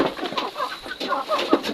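Heritage chickens on a farm cluck in short irregular bursts, several birds calling close by over a quiet background, with a few sharper clucks near the end.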